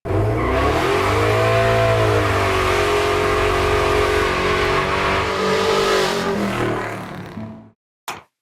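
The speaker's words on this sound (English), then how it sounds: "If you've never heard what the muscle truck sounds like, here's that right here." A V8 muscle truck with open-header exhaust roars close and loud through a long sustained rev, its pitch swelling and easing before cutting off, followed by a brief sharp blip.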